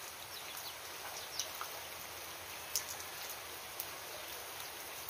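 Quiet, steady rain hisses in the background, with a few isolated drips and faint high chirps over the soft wash.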